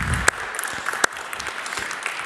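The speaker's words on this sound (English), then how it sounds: "Shall we give Laura an applause?" Scattered clapping from a conference audience for Laura at a healthcare priority-setting seminar, a few sharp individual claps over a soft, thin patter, brief and fairly close.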